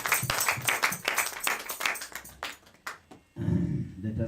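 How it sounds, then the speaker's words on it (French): A church congregation claps in a run of sharp, rhythmic bursts that grow sparser and fade out, after which a low murmur of voices takes over. "Let us clap for him"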